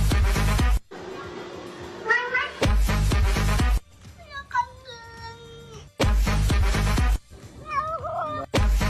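A cat meows in drawn-out, talk-like phrases of varying pitch, alternating with loud bursts of music or other sound, the meows close and clear.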